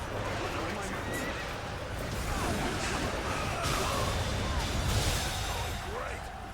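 Horse neighing in the video game Dynasty Warriors Origins, whinnies over galloping hooves and busy battle clamour, with a voice talking over the game sounds.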